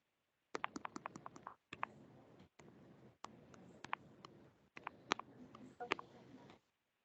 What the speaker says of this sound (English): Somebody typing something?